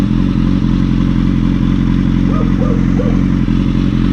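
Steady, loud motorcycle engine with a new exhaust, a rough, throbbing note, holding a low idle with slight fluctuations throughout.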